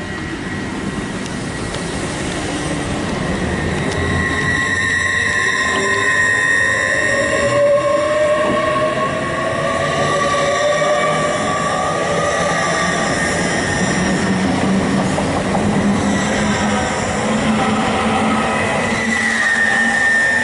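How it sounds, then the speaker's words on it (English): LNER Class 801 electric multiple-unit train pulls out of Grantham station, a loud steady rumble with rising whining motor tones and occasional wheel squeal, building as it departs. "Departing now for the 1220 LNER service to York"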